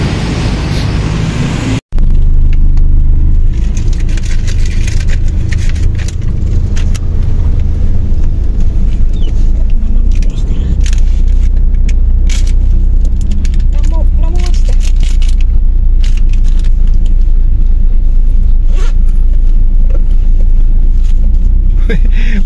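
A car's engine rumbles steadily and close on a quiet street in Kuala Lumpur, with an abrupt click near the start and people talking over the noise.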